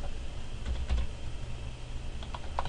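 Someone types on a computer keyboard while setting up a user account template, a short, faint patter of key clicks over a steady background hum.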